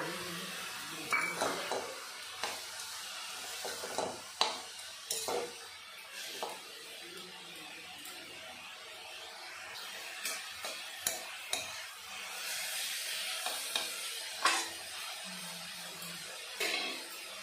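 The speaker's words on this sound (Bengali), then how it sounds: "এখন আমি দিয়ে দেবো ধুয়ে কেটে রাখা কাঁচা লঙ্কা" Khesari greens sizzle softly in a pan as chopped fresh green chillies go in, with a low continuous fry broken by sharp spatula scrapes and metal clinks against the pan at an uneven pace.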